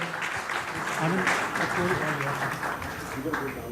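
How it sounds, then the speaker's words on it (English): Audience applause at a Rotary Club of Bombay gathering, a steady broadband patter of many hands filling the room for several seconds, with voices murmuring underneath throughout. "A big round of applause to Gaurav."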